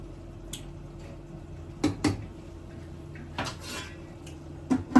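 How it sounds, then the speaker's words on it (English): Egusi and ogbono soup being stirred in a pot, with a few sharp clinks and scrapes of a spoon against the metal over a quiet background. "And I'm going to be stirring this as well."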